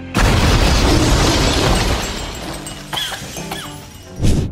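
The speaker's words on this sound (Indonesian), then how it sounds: "ia akhirnya meledakkan seluruh tempat itu" A loud animated explosion from the Angry Birds movie (2016), a sustained booming blast with crashing and shattering debris that fades briefly, then a final burst near the end.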